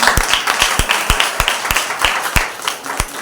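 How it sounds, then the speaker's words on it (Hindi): Church congregation at a Resurrection Sunday service clapping together, loud, near, and in a steady rhythmic beat of about twelve claps that keeps going without pause. "आइए परमेश्वर के आदर के लिए एक जोरदार ताली बजाते हैं"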